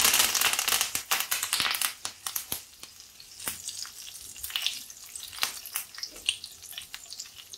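Curry leaves dropped into hot oil in a pan crackle and sizzle loudly at first, with sharp pops that thin out into intermittent spitting as the frying settles.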